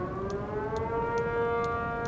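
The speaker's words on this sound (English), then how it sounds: "Those are tornado sirens, Abby." A tornado warning siren wails steadily in the distance, a sustained tone with faint rhythmic ticking over a low background rumble.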